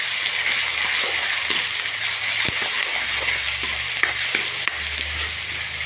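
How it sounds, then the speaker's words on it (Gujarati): Finely chopped onion and ginger-chili-garlic paste fry in oil for Maggi masala balls, giving a loud, continuous sizzle with occasional sharp clicks from stirring. "અંદર ઝીણી સુધારી ડુંગળી હતી એ નાખું છું. આદુ મરચાં લસણની પેસ્ટ નાખું છું."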